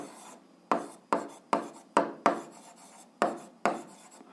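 Chalk or pen scratching out a math solution in a series of short, distinct strokes, about eight scrapes in an uneven rhythm, close and quiet with no voice.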